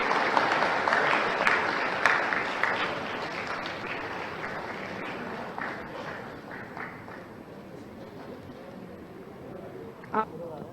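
Applause for Jhabua district at a public government event, with a crowd clapping fairly loud at first, then gradually thinning and fading to scattered claps and a final sharp clap.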